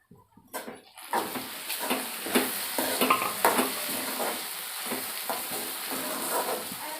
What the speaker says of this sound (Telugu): సాల్ట్ పసుపు రెండు వేసి కూడా మొత్తం కలిపేయాలి